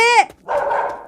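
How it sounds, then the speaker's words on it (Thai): A dog barking in the video game Urayama, a single close bark followed by a speaker talking over the game audio. "อุ้ยเสียงหมา"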